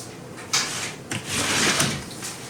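A plastic MTM ammo box is shifted and set down on a surface, producing a few hollow knocks and scrapes: one thud just past half a second, another near one second, then a longer rustling shuffle before it settles.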